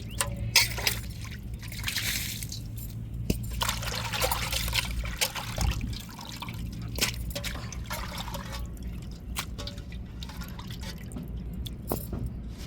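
Fish pieces being rinsed for a fish curry: water splashes and trickles continuously in a bowl, with hands sloshing and swirling, occasional drips and clinks, close and moderately loud over a low steady hum.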